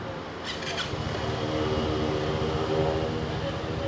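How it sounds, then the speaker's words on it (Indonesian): A Vespa scooter engine, either a Primavera or a GTS 300, turns over and settles into a continuous loud, buzzing idle with a brief clicking rattle near the start, heard up close. "Sekarang kita coba hidupin motornya."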